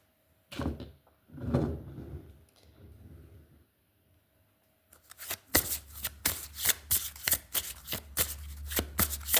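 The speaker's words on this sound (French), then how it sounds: "on va prendre une autre carte avec un autre oracle" Oracle cards are riffled and shuffled in a run of rapid, crisp papery flutters and slaps close by, following a couple of earlier softer handling rustles and a short pause.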